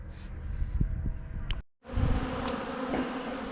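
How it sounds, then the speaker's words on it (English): A dense, steady buzz of many bees swarming close by in California, continuous throughout apart from a brief cut, with outdoor background noise. "the bees are out doing their thing, running around"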